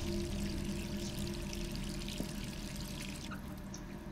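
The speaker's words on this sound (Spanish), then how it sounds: "Bien, el agua está saliendo, vamos a cerrar." Running water pours steadily from a bathroom tap in the Resident Evil 3 Remake game, a continuous splashing flow with a faint drip near the middle.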